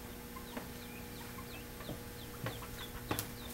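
Several chickens and a rooster on a small backyard flock of tame, hand-friendly pet birds give intermittent clucks and short calls over steady background noise, with a few sharper, louder squawks toward the end.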